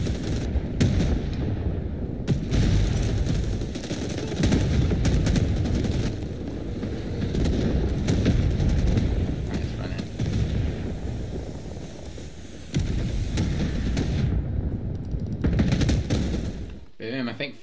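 Continuous bursts of gunfire and explosions in the video game Rising Storm 2: Vietnam, dense and loud, with brief pauses and a voice talking over parts of it.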